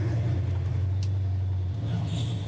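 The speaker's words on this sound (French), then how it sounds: "Cet énorme V8." A 1970 Dodge Charger's big V8 idling with a deep, steady low rumble, close and continuous throughout.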